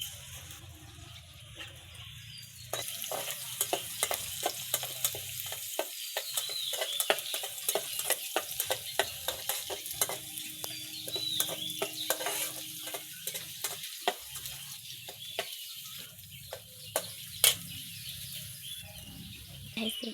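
Garlic frying in oil in a wok, with a steady sizzle and repeated clicks and scrapes of a spatula stirring it, close up; faint birdsong is heard in the background.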